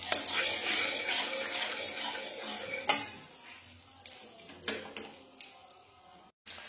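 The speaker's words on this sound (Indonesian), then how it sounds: "Pertama-tama kita masukkan minyak goreng dan margarin." Cooking oil and margarine sizzle and crackle steadily in a hot pan while green chili fried rice is started, a continuous bright frying hiss with a few clinks and stirring bumps.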